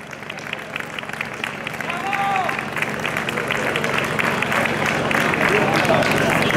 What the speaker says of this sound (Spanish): chicos, fuerte el aplauso.